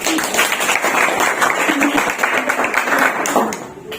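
A classroom audience of teachers in training applauds group 3 after its presentation, with loud, continuous clapping close by that thins out near the end.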